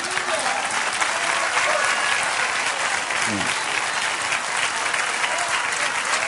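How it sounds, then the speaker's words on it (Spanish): A church congregation applauds in praise, with sustained, dense clapping from many hands at an even, loud level throughout, and a few voices are faintly audible underneath. "Dale aplauso al Señor."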